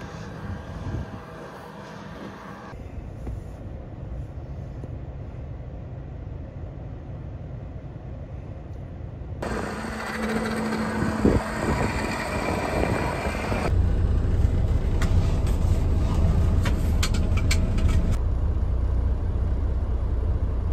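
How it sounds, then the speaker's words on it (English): A combine harvester runs during the corn harvest, giving a continuous heavy engine drone that shifts in pitch and loudness as the machine works, heard from close by with no talk. "Now, since we are just running the combine and no grain cart, I am able to keep up with the semis"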